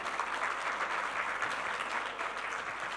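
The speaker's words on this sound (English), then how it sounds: "If we will all give a big round of applause to all recipients for tonight," Sustained audience applause at an evening awards ceremony during a news forum, steady dense clapping throughout with no talk over it.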